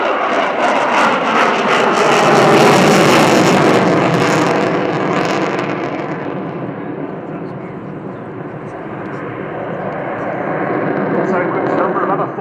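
Sukhoi Su-27 fighter jet flying a display at the RIAT airshow at Fairford, a loud continuous jet roar that swells, eases and builds again as the aircraft passes.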